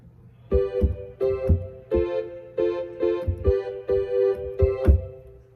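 Seven evenly spaced keyboard chords from a song ring out one after another, each struck cleanly and sustained briefly, forming a steady, moderate riff with no voices.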